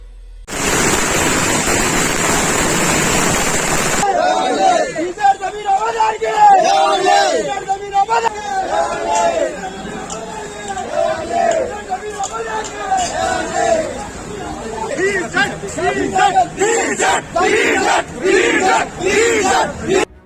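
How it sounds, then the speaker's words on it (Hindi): A dense crowd gathered in Karnataka to meet Zameer Ahmed Khan shouts and cheers loudly and continuously, with a harsh wash of noise at the start before excited voices and chanting surge throughout. "ज़मीर अहमद खान को मिलने और इन्हें देखने के लिए लोगों की भीड़ जमा हो जाती है।"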